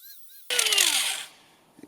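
Power grinder biting into a dirt bike seat's foam, a sudden loud burst of whining and scraping that runs about three-quarters of a second before tapering off, followed by a brief soft knock.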